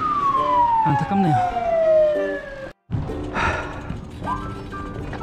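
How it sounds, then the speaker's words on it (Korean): An ambulance siren sounds as the vehicle carries away a cyclist injured in a crash at the Tongyeong Gran Fondo cycling event, a long loud descending wail up front under crowd noise and a sighing voice, followed by a brief dropout, then more siren and ambient bustle. "지금 낙차를 한 사람을 태우고 구급차가 이동을 하고 있는 중입니다."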